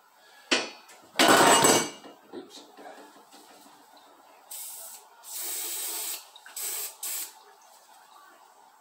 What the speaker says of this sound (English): I'll spray it with that WD-40 bike degreaser, and I'll get that whole part in there really nice and clean.